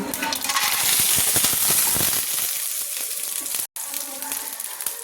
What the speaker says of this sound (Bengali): তেলটা আমার গরম হয়ে গেছে। তো প্রথমে আমি বড়িগুলো ভেজে নিচ্ছি।